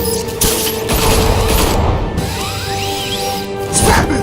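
Gunfire aimed at Batman in Batman: The Telltale Series, a loud fusillade of rapid shots with crashing impacts and whooshes, continuous and close, ending in a final louder burst.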